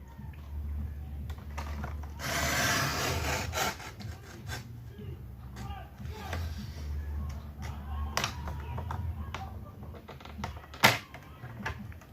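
A strip of card cut by hand for a stepper card, a close run of soft scraping and rubbing strokes with scattered sharp taps and one louder click near the end, no voices.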